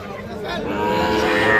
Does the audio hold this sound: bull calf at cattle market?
yes